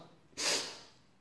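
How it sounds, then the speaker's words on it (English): A single sharp nasal sniff of snuff taken from a snuff paddle, a short hissing inhalation close to the microphone that fades quickly into quiet. "Hold it up to your nose."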